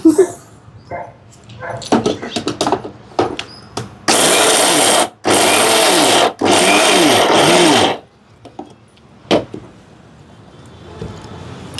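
A mixer grinder whirs loudly through roasted peanuts in three pulses of a few seconds each, stopping briefly between runs, with quieter kitchen clatter before and after.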